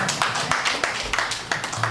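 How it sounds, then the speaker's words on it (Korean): Audience members at a choir festival for people with disabilities clap together, fairly dense and close, with low background murmur underneath. "박수 한번 주시고"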